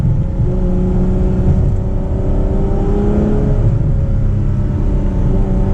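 A Ferrari 812 Superfast's naturally aspirated 6.5-liter V12 revs steadily from inside the cabin, a loud, continuous engine drone with rising and falling harmonic tones throughout, no voices over it.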